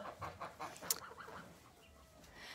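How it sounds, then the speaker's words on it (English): A broody sapphire hen sitting on duck and chicken eggs in a crate clucks softly several times in a quiet indoor space, low and close, with a brief sharp chirp from other chicks near the middle. "So I have one of the sapphire hens in here."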